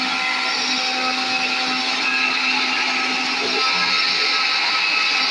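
Mixer grinder whirring steadily while grinding ingredients for a jackfruit curry, a loud continuous high-pitched motor whine that holds constant throughout with no pauses.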